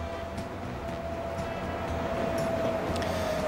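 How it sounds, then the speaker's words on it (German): An S-Bahn commuter train rolls into Innsbruck main station in Transport Fever 2, a steady low rumble under a faint sustained tone, with light clicks over the running noise. "Im Hintergrund kommt schon die nächste S-Bahn eingefahren"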